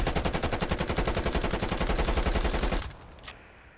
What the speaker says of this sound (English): so now have a look at the Krieg 6. Let's try that against this this wooden fence wall